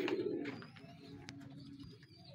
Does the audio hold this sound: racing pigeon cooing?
yes